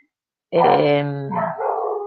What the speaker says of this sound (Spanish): disculpad mis perritas